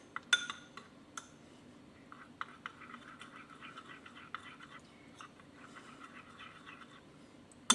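Melted chocolate stirred in a bowl, soft scraping and light clinks of a utensil against the sides, quiet and close, with sharper taps scattered irregularly.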